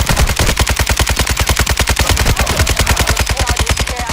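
Sustained automatic gunfire in a video game, a fast, evenly spaced stream of loud, close shots that continues without pause from start to finish.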